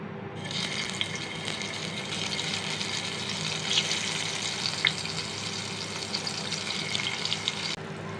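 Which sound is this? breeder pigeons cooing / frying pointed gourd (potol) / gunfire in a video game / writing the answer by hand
frying pointed gourd (potol)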